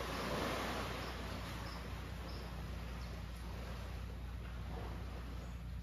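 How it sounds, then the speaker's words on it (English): A constant low wash of water rolling in to shore in Panama, steady and broadband like gentle surf, with no distinct breaks or voices. "now you're listening to the water coming to shore"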